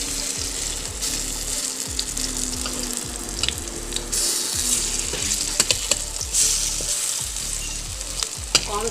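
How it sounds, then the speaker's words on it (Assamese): Cabbage frying in a small amount of oil over low heat gives a steady, close sizzle that continues for the whole stretch, broken by occasional scrapes and clinks as it is stirred. "কম ষ্টিমত এনেকৈ কমাই ভাজিলে তেলো বেছি দিব নালাগে, কম তেলতে হয়।"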